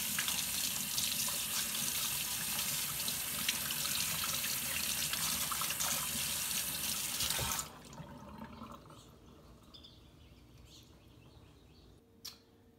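Tap water runs steadily into a sink as a Keurig K-Elite coffee maker part is rinsed, with a loud continuous gush that cuts off abruptly partway through and leaves quieter clinks and handling noise.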